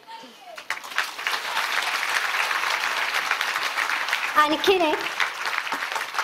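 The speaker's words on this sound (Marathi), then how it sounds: "तुम्ही आता इतके जण टाळ्या वाजवताय ना" A large audience of women at a conference claps continuously for several seconds, a dense steady patter filling the hall, while a voice speaks briefly over it near the end.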